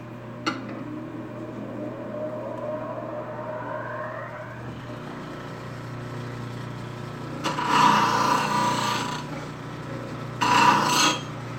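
Wood being shaped with a scraper on a lathe during pen turning: a steady motor hum with a whine that rises in pitch, and two louder bursts of scraping against the spinning wood.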